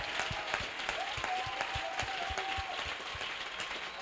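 A church congregation applauds in praise of Jesus Christ, steady dense clapping with a faint sustained tone underneath and no clear speech.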